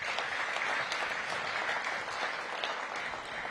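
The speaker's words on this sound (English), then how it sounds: "Give them a big round of applause." An audience at a Washington, DC public engagement forum gives a sustained round of applause, dense steady clapping from many hands throughout, loud and continuous with no talk over it.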